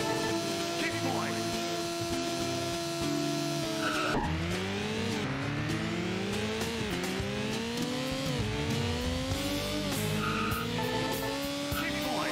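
Racing motorbikes in the video game Moto Racer 2 whine and rev continuously, with engine pitch repeatedly sweeping upward through gear changes and tire skids mixed in, a dense, loud game soundtrack with talk over it.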